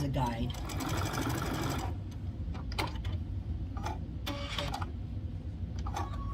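Sewing machine stitching fabric for a Valentine gnome craft, a steady fast close mechanical whir that stops and restarts in short bursts, with talking over it.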